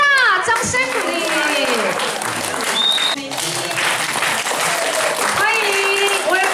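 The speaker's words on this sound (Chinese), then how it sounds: "爸爸给大掌声鼓励" An audience at a community association's touring show in Hualien and Taitung breaks into sustained applause, with a host's voice talking over the clapping throughout.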